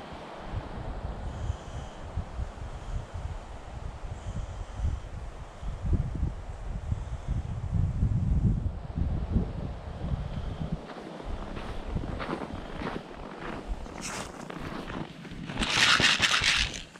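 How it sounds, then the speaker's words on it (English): Strong winter wind buffets the microphone on a cold outdoor bog, a continuous low rumbling roar that swells and fades, with crackling and scraping noises toward the end. "I don't know if you can hear the wind."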